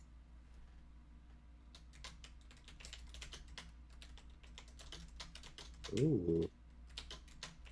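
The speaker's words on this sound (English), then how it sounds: "Typing fast today." Rapid typing on a computer keyboard, a steady stream of quick close clicks running throughout, with a brief voiced exclamation near the end.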